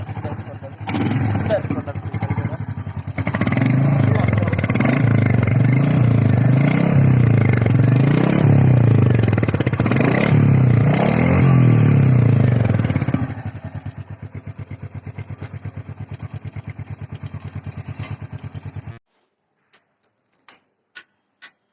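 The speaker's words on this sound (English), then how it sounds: "I'll just show the exhaust note, how my bike sounds." A Royal Enfield Meteor 350 motorcycle idles close to its exhaust with a loud, even thumping beat that later softens and drops out, leaving a few faint clicks at the end.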